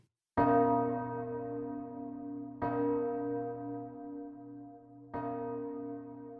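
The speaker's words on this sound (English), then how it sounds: "It becomes sound. The sound of a church bell." A church bell rings three times at a slow, even pace, each strike bright and full with a long humming decay that overlaps the next, heard alone and fairly close.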